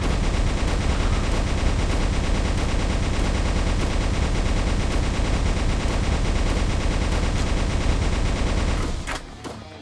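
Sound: gunfire with increased fire rate in a video game

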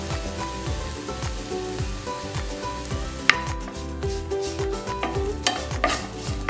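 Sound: stirring onion and capsicum sizzling in a pan

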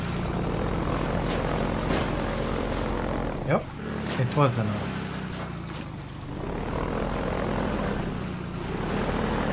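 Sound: helicopter flying in the video game Half-Life 2

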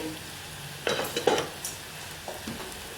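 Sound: stirring and frying kadhi ingredients in oil

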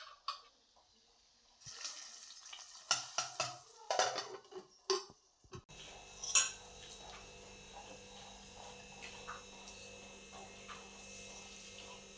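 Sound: frying cashews and raisins in ghee

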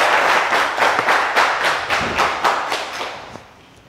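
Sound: audience applause

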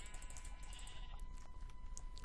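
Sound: sheep bleating in video game Minecraft

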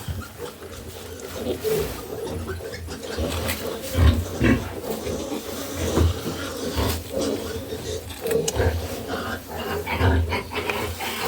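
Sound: pig grunting

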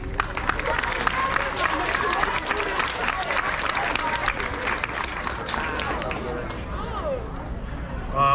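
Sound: audience applause

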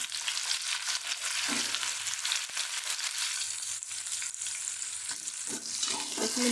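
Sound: chopped eggplant frying in pan with garlic

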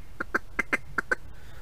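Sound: duck call imitating a single feeding mallard

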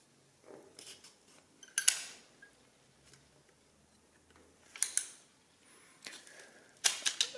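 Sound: Summira S printing adding machine printing a number after lever pulled

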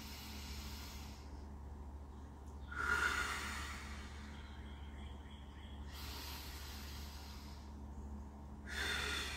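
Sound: 7-7 breathing, inhaling through nose, exhaling through lips

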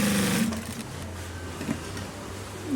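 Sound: sewing machine attaching polo shirt collar

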